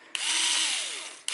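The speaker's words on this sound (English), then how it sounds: "electric drill and Hitachi drill driver, and I'll open first bolt" A Hitachi electric drill driver runs steadily for just over a second as it loosens a long bolt on a Ford Zetec engine during an oil pump replacement, a close, loud whine that starts abruptly and cuts out, then briefly restarts.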